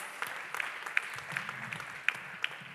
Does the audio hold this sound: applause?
yes